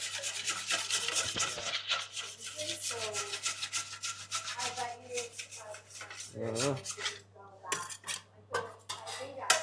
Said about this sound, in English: I'm gonna scrape that extra flour there